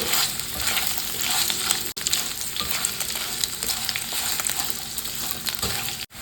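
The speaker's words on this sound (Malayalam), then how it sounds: "ഇനി നമുക്ക് ഇതിലേക്ക് നമ്മൾ കട്ട് ചെയ്തെടുത്ത് വെച്ചിട്ടുള്ള നമ്മുടെ കോവയ്ക്ക ചേർക്കാം നന്നായി ഒന്ന് യോജിപ്പിച്ച് കൊടുക്കാം" Ivy gourd stir-fried in a pan, giving a steady, close sizzle with scraping and stirring noises throughout, broken by a brief gap near the end.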